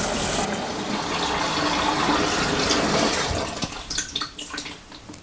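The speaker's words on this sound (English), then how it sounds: "You can now start adding the cold water for the first rinse." Cold water pours into the tub of a Leisurewize Portawash portable washing machine in a loud, continuous gushing fill that tapers into splashy, uneven trickles toward the end.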